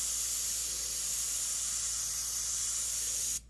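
Continuous hiss of an airbrush spraying light paint onto a Corvette painting on Claybord, close and steady for several seconds before cutting off abruptly.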